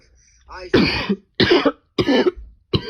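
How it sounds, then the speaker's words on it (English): Four loud, hacking coughs come in a regular series close up, each a sharp burst separated by brief pauses. "Please do excuse me while I'm dying from a cough."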